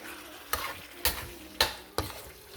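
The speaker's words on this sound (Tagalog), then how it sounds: "haluin lang natin" Pork salpicao frying in a pan sizzles steadily while a utensil stirs it in four distinct scraping strokes, close and fairly quiet, with no talking.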